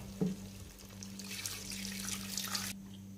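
Two glasses of water poured into a pot of browned mutton for a Punjabi aloo gosht curry, a steady splashing pour for about two seconds over a low background hum, then stopping.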